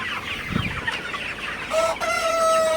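Chickens cluck close by in short bursts, with a higher drawn-out call near the end and no talking.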